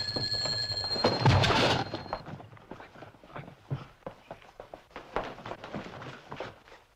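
A telephone rings in a Norman Wisdom comedy film, a thin metallic trill heard for a couple of seconds before it gives way to scattered clattering steps and knocks that fill the rest of the scene.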